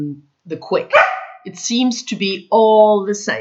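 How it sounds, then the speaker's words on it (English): A dog barks a few times in the background of a grooming session where black dog nails are being trimmed, the short barks mixed in with a person talking close to the mic. "That was my dog barking, I'm sorry."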